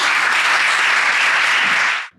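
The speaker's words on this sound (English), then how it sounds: "we invite him with a round of applause" A conference audience gives a short, dense round of applause, loud and even, before it cuts off abruptly after about two seconds.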